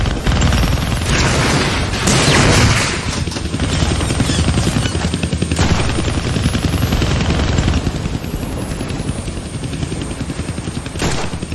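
Machine guns fire at a helicopter in the Deadpool video game: loud, dense, rapid bursts that run almost without a break, with the chopper's drone and occasional heavier booms beneath.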